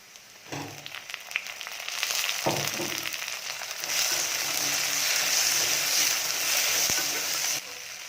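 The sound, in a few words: onions and tomatoes sautéing in a pan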